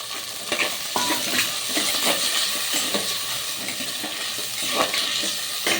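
Tomatoes and onions sautéing in a pan for fish curry, a loud continuous sizzle with periodic stirring scrapes close by.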